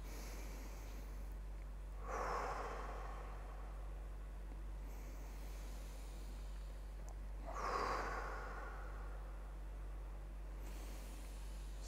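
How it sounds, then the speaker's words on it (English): Two slow, deep breaths taken during a guided relaxation exercise, each a soft airy inhale-exhale swell spaced several seconds apart over a low steady hum, with no talking. "3-4 deep breaths more"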